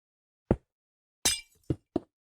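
Glass blocks being placed in Minecraft during a redstone build give four short, crisp clinks spaced irregularly over a couple of seconds, each close and clear, with no talking.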